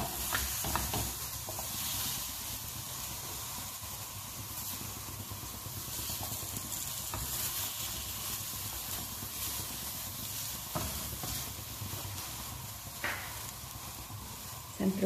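Eggplant pieces frying in a pan give a steady, even sizzle and hiss throughout, with a few brief clinks and stirring sounds.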